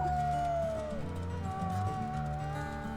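Wolves howling in the WolfQuest video game, long overlapping gliding tones that slide down and hold, with several voices layered at a moderate distance.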